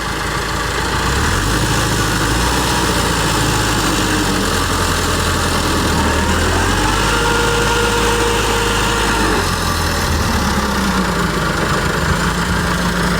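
A tractor engine drones loud and steady while it works to pull out a stuck tractor sunk into soft ground at a field recovery of a harvester, with a continuous close rumble and slight shifts in pitch.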